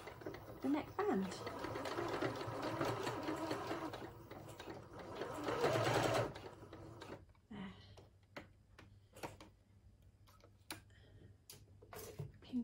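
A sewing machine stitches a dress neckline to its neckband, running in a steady close whir for several seconds, then giving way to slower ticks and clicks, with some talk mixed in.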